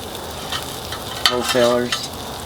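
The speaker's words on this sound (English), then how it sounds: "Brought them out to room temperature and throwed them on the grill." Freeze-dried sirloin steaks, marinated and brought to room temperature, sizzle on a grill, with a steady crackle and a louder hiss and pop burst midway.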